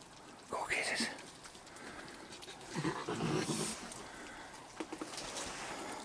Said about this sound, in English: I hear you growling.